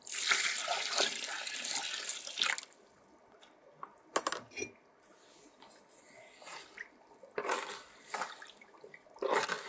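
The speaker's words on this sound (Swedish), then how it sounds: "Så jag ska blanda i lite vatten i det här till en lagom konsistens." Water is poured and stirred into a batch of clay plaster being prepared for log walls, a broad splashing, sloshing wash at first, then quieter intermittent mixing scrapes and splashes, close by, with no talking.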